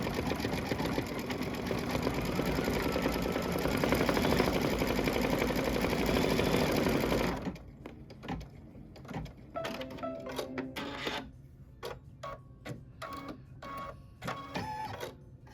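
An embroidery sewing machine stitches the gas pump lower panel accent on a quilt block, first a dense steady whirring run, then slower, choppier bursts of stitching and stops.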